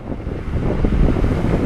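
Headwind rushes over the microphone of a moving generator-built electric bike, a loud, low, buffeting roar that swells and dips unevenly throughout, with no one speaking.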